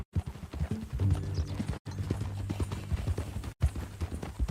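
Horse hooves in Red Dead Redemption 2 clip-clop in a steady trotting rhythm, close and clear, with a few brief silent breaks between stretches.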